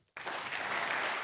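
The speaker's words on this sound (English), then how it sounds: "When I say two, I want you to clap thrice." An audience at an HR convention breaks into applause that starts abruptly after a short silence and continues as a dense, steady clatter of many hands. It does not come as three separate claps.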